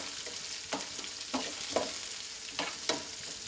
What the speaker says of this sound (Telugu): ఆనియన్ వేసుకొని కొంచెం ఎర్రగా వేయించుకోవాలి ఆనియన్స్ని